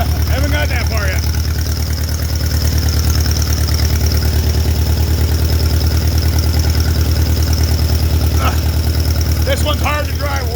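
An old Allis tractor engine runs at a steady idle, a loud, close, continuous low chugging drone with an even pulse and no break in level.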